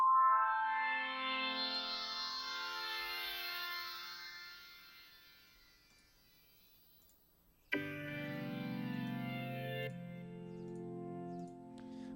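A sustained synthesizer tone with a rich, organ-like harmonic texture slowly sweeps and fades, then a new lower chord enters abruptly and holds.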